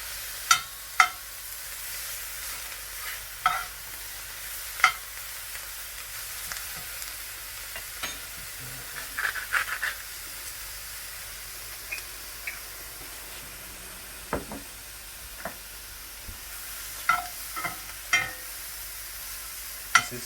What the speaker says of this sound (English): you're going to keep the heat quite high, yeah, because we want to cook the mushrooms quite quickly